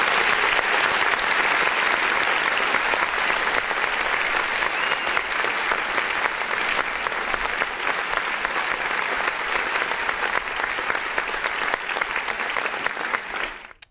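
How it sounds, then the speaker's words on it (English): Sustained audience applause after a live indie song performance, dense and steady clapping for about fourteen seconds, loud and close, tapering slightly at the very end. "you already know we need to clap for that"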